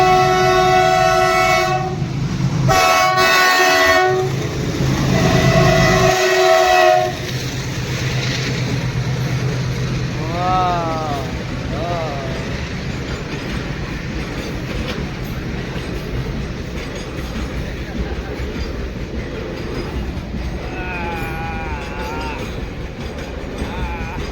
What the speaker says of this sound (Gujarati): પેલા મિત્રો હવે ટ્રેન આવી ગઈ છે.